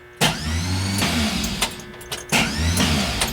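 The starter on a 1967 Volkswagen ragtop engine cranks in two loud bursts of whirring and grinding close by, with a mechanical clunk and a brief pause between the attempts.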